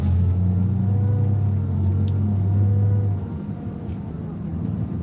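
A Ford Edge engine under light throttle while driving, a steady low rumbling drone with a smooth hum that eases slightly in level partway through, with no rattling.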